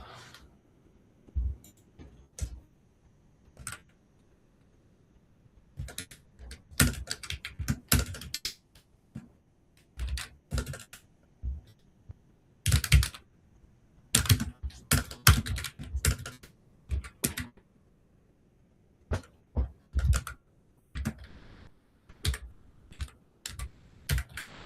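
Someone types on a computer keyboard in irregular bursts of crisp, close key clicks with brief pauses, no voices present.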